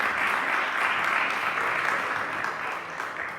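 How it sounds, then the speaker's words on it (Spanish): A church congregation applauds during a sermon, producing a soft, even wash of clapping that holds steady and fades slightly toward the end. "Dele fuerte el aplauso a aquel que vive."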